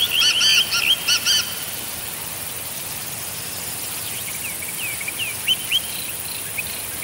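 A male black francolin calling loudly in steppe, with sharp, harsh repeated phrases up close at the start and fainter repeated calls later over a steady background hiss.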